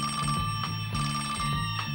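A telephone rings in rapid repeating bursts, a bright electronic trill pulsing about every third of a second, close and steady with no voices.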